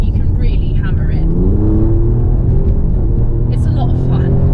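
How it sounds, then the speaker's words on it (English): An Alfa Romeo Giulia Quadrifoglio with a turbocharged engine accelerates hard in race mode with the exhaust opened, a loud rising engine roar heard from inside as someone talks over it. "in race mode, and it stiffens up the suspension, again opens up that exhaust, and you can really hammer it."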